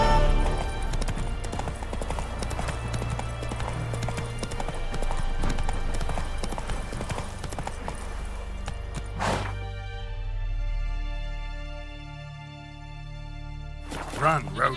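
A horse gallops in The Witcher 3 video game, rapid clip-clop hoofbeats pounding under game music and ambience, with a brief whoosh and a sudden shift toward the end.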